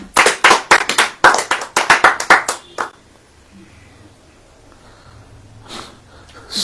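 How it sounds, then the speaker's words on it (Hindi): Audience clapping at a Hindi Christian sermon, several seconds of loud, fast, dense applause that stops abruptly and leaves a quiet room with faint murmuring. "अब ताली बजाइए।"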